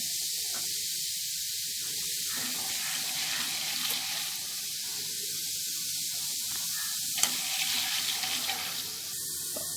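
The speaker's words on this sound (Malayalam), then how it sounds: "പൊട്ടുകടലയും അതേപോലെ ഇട്ട് വറുത്തെടുക്കാം" Roasted chickpeas sizzle and crackle steadily as they fry in hot oil, a continuous bright hiss close by with occasional small pops.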